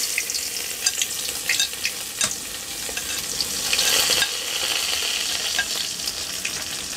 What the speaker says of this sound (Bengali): তেলটা গরম হয়ে গেছে। এখন আমি এর মধ্যে পেঁয়াজ কুচিগুলো দিয়ে